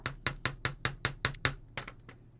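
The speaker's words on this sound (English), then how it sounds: "you can put things into this hole and hammer on top of it" Repeated hammer strikes on a small metal bench block while working with headpins and wire, about nine sharp, evenly spaced metallic taps in quick succession, close and fairly quiet.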